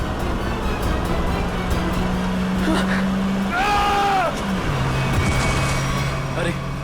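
A driverless taxi car rolling along a deserted road, its engine a steady hum that shifts pitch midway, with a passing whoosh and voices calling out over it.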